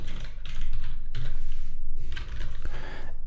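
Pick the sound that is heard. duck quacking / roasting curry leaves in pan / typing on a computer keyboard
typing on a computer keyboard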